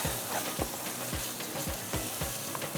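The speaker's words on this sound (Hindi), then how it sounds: "जब तक मैं इसकी अच्छी से भुनाई करती हूँ" Bread halwa mixture fries and is stirred in a pan, a steady sizzle broken by regular scraping strokes roughly every half second, close and moderately quiet.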